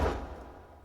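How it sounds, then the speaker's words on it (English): A transition sound effect from music production starts with a heavy, low thud-like hit that quickly fades into a softer, lingering wash, heard alone without talking. "Transition effect."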